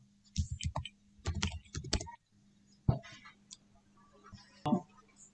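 Typing on a computer keyboard in quick bursts of close, crisp key clicks separated by short pauses, with a faint steady hum in the background.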